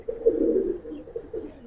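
Giribaz pigeons of the Palla line coo in a loft, a soft low murmur rising and falling in a few close, moderately loud phrases with no talk over them.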